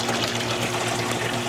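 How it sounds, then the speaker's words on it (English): A water pump runs steadily in a homemade IBC tote aquaponics system, a constant close mechanical hum with a buzzing tonal drone and wash of water noise, unchanging throughout. "this is the pump down here, which pumps water"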